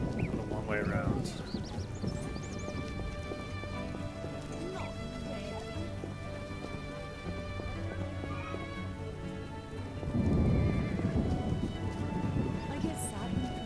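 Steady rain falls in the video game The Witcher, a continuous hiss of drops on surfaces, thickening into a heavier rush near the end, with a faint tonal hum underneath.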